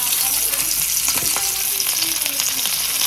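Marinated fish, coated in Kerala-style masala without flour, frying in hot oil with a loud, steady crackling sizzle that fills the whole moment, no voices.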